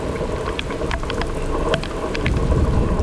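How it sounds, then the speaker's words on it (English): Heavy rain pours steadily during a thunderstorm on a solo wilderness whitewater trip, a dense continuous hiss that swells slightly toward the end, with a few brief sharper sounds mixed in. "Raining a lot."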